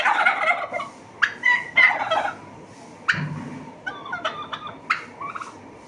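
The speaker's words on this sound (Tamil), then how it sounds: "ஒரு ஸ்பெஷலான சத்தத்தை கொடுக்கும் இந்த வான்கோழிகள்" Turkeys gobble in several bursts, some loud and close, others fainter, over a steady outdoor background hiss.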